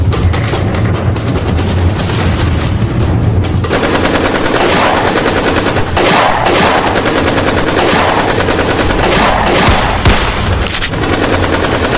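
Loud, sustained machine gun fire rattles continuously, with rapid overlapping bursts and no pauses throughout.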